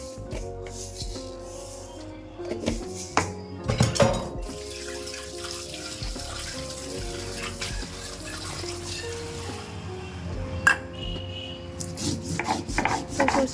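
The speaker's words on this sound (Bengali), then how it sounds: "আর আমি যখনই সর্ষে দিয়ে কোনো ঝাল করি মাছের, সর্ষেটা এইভাবে বেটে নিই" Mustard seeds are ground by hand with cumin and salt in a steady rasping, rubbing rhythm, with occasional knocks and scrapes and no talking.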